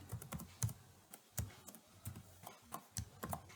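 Rapid keystrokes on a computer keyboard while entering Python code, a steady run of sharp, close clicks with brief pauses, heard alone without talk.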